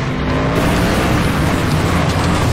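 Ford Fiesta in the demolition racing game FlatOut 2, its engine roaring loud and close with dense broadband road noise, steady and unbroken for a couple of seconds.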